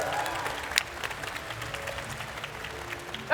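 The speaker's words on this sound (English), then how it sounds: "Round of applause for the ancestors." A festival audience at a live tabletop gaming session applauds steadily, a dense patter of clapping at moderate distance with a few sharper bursts throughout.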